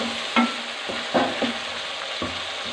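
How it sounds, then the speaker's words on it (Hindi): Tomatoes frying in a pan while a spoon stirs and mashes them, giving a gentle continuous sizzle with four or five distinct scraping knocks, heard up close without talk. "दोनों चीज़ों को हम भून लेंगे"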